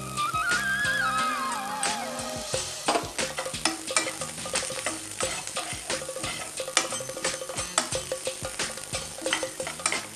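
Turmeric powder and curry leaves fry in hot oil for an Onam cookery show, a steady close sizzle broken by frequent sharp scrapes and clicks of a spoon stirring the pan, with no talking.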